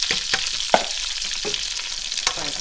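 One whole onion sizzles in rendered oxtail fat for a Jamaican oxtail dish, a bright continuous hiss punctuated by quick spatula scrapes against the pan, close and fairly loud.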